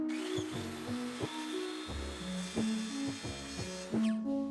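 Poplar wood is cut to rough dimensions with a power tool, a close continuous whine with changing pitch and repeated bursts as the blade bites and eases, with no talking.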